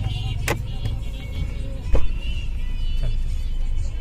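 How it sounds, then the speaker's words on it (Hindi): Cars idling and creeping in a jammed road in Cuttack, a steady low engine rumble with a few brief passing swishes and a sharp knock near the middle, close and loud without talk. "मैं बाहर जाके दिखाता हूँ कि गाड़ी कितना जाम है"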